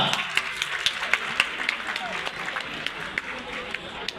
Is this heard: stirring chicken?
no